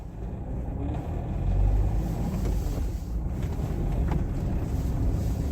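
A car engine runs steadily while driving, a low continuous rumble with wind noise over the microphone, recorded from inside the cabin with no talking.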